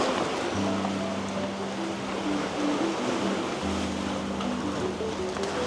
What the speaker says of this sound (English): I love the sound of those waves splashing against the rocks.